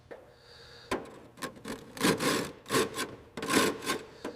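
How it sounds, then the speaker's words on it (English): Damp cloth rubbing the old black paint and patent plates of a 1920 Ford Model T, close, crisp bursts of friction in uneven strokes, some short, some drawn out, with quiet pauses between. "With a bit of elbow grease and a damp cloth, we're revealing the original black paint and the intricate details of this 1920 Model T's patent plates"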